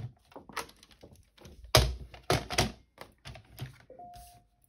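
A paper trimmer slices through sheets in a few sharp, close chopping thunks and scrapes, separated by brief handling noises on a quiet tabletop.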